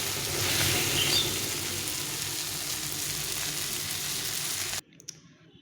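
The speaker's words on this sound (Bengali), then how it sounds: "এখন ভালো করে ভেজে নিয়ে এটাকে নামিয়ে দিতে হবে।" Onion-leaf chorchori with fish oil pouch frying in a pan, a loud, steady close sizzle and crackle that cuts off abruptly near the end, leaving near silence.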